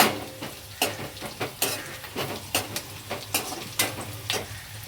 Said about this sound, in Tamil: இது வெங்காயம் நல்லா வதங்கிடுச்சு.